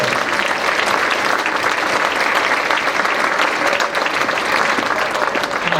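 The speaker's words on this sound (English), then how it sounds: "Let's give him one more round of applause." Dense, steady applause from a school audience at a Christmas concert after a tough piano piece, loud and sustained with no break for the full length.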